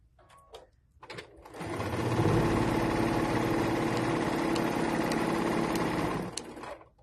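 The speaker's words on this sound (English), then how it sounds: "now we're going to sew this together into rows" A sewing machine stitches quilt pieces into rows, whirring steadily and loudly for several seconds after a few short starts, then stopping.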